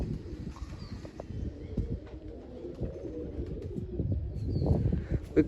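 Pigeons coo low and repeatedly at close range in a rainy village setting, soft throaty calls overlapping amid light rustling and scattered thumps, with no talking.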